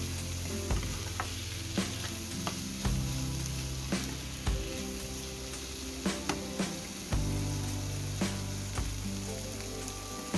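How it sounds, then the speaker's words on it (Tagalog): Tomatoes sautéing in a pan for mung bean stew, a steady sizzle and frying hiss with repeated scraping stirs of a utensil recurring every second or so, close and alone without talk. "halu-haluin."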